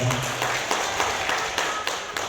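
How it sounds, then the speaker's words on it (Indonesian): An audience at a digital marketing seminar claps, a moderate, somewhat uneven patter of hands that fades slightly near the end, with faint voices underneath. "Beri aplaus buat Anda semua."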